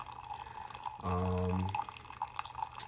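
A Chefman single-serve K-cup coffee maker dispenses hot water in a brief, steady stream of under a second, surrounded by soft drips and light background noise.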